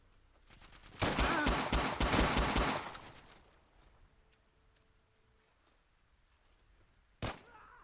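Autocannon fire in the World War II strategy game Gates of Hell: a loud, rapid burst of heavy automatic shots for about two seconds, trailing into distant battle noise, with one more sharp shot near the end.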